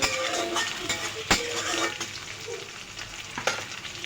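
Small local shrimp hit a pan of frying bottle gourd curry with a loud, close sizzle, broken by sharp stirring clatters and scrapes against the pan.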